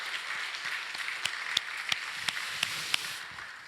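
A church congregation at a lay testimony festival claps in encouragement, a steady, fairly soft wash of applause with a few sharper individual claps standing out, no voices.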